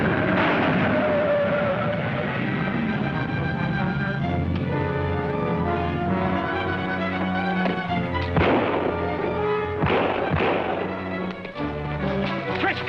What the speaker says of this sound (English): that sounds like gunshots in the road ahead.